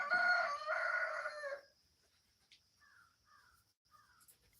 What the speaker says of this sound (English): Roosters are crowing.